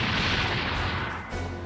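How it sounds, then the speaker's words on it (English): An explosion in the video game Super Robot Wars 30 bursts out as a loud, dense, sustained roar of broadband rumble and crackle, dipping briefly before surging again, with no voices. "No, that was an explosion."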